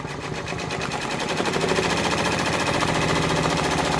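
An embroidery sewing machine stitches down a freestanding pumpkin quilt block, its needle hammering in a fast, dense, steady rhythm that runs unbroken and fairly loud from start to finish.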